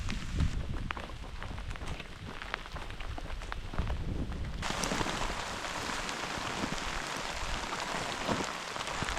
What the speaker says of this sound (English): Rain is coming down a lot stronger now.